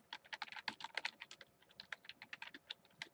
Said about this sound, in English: once I start typing